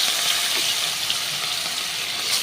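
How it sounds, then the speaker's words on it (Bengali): Small pieces of rohu fish fry in hot oil with a continuous, bright hissing sizzle, close up and even throughout, with no voices present. "এবার আমি মাছগুলোকে ভেজে নেব। তেলটা গরম হয়ে গেছে।"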